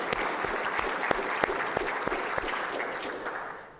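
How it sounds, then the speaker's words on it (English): An audience claps in sustained, dense applause for a team at an engineering lecture, with a few sharper individual claps standing out before it fades at the end. "I'd like to give the DART team a round of applause for their contribution."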